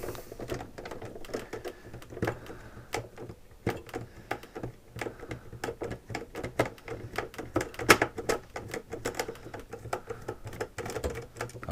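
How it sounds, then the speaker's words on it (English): A small screwdriver turning screws out of a SodaStream machine being taken apart for repair, with dense, irregular clicking and ticking at close range and faint bumps of handling between the turns. "Here are two screws. Let's remove these first."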